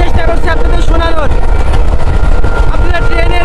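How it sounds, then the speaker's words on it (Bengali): A fast Mongla to Benapole commuter train roars along, its loud, steady rumble mixed with strong wind buffeting, while someone talks over the din. "আপনারা ট্রেনের আওয়াজ শুনতে পাচ্ছেন বন্ধুরা"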